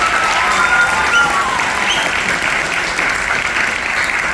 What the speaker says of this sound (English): Can we give those soloists a big round of applause?